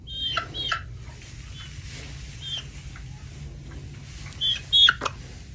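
A rescue hen makes a few short, close clucks and chirps scattered over a low steady background hum, with a louder pair of calls near the end.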